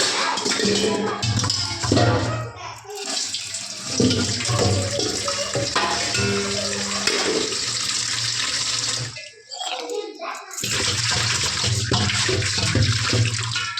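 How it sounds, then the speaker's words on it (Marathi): Water splashes and gushes into a metal water pot being rinsed out, loud and close, with sloshing bursts, a short pause, then more pouring. "पाणी संपलेलं आहे तर जरा हंडा ह्या खंगळून घेते"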